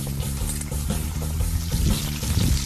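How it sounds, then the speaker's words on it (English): Vegetables stir-frying on a hot FireDisc griddle: a dense, close sizzle with crackling that runs continuously and grows slightly louder toward the end, no voices over it. "Simple stir fry. Let these veggies get in there."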